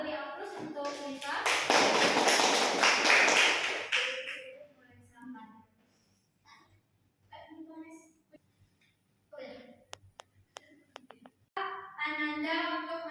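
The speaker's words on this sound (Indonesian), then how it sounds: "Beri aplaus untuk Risa" A classroom bursts into applause for a student named Risa, a dense burst of many hands clapping for a few seconds, then fading into scattered taps, shuffling and children's voices.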